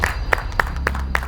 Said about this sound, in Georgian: ტაშით გავახმოვეთ 12 ნომერი